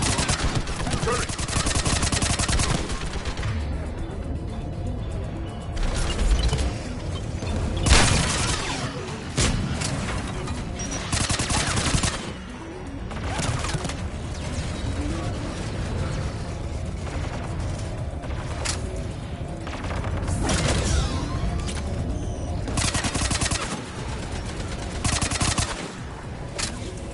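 Turret gunfire in the sci-fi shooter game Mass Effect 3 roars as dense, nearly unbroken automatic fire with booming impacts, filling the whole stretch at high level.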